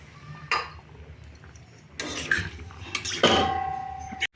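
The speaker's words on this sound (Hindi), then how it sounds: "एबे आम एथे पानी देदेबा" Water is poured into a pan of potato masala curry in a home kitchen while cooking a simple fish thali, with clattering pot sounds and splashy pouring bursts, close and moderately loud, with no talk.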